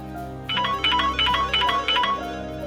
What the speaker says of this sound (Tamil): அப்பா ஃபோன் பண்றாரு.